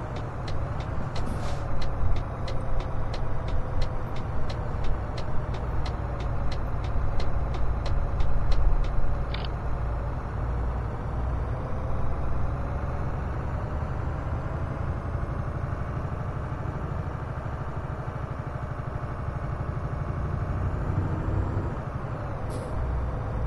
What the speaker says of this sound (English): Truck just sounds really good though